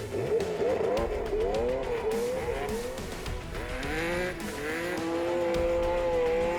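A Porsche rally car revs hard while struggling to get moving on a rough East African Safari Classic stage, its loud engine rising and falling in repeated strained pulls with some wheelspin, close and continuous.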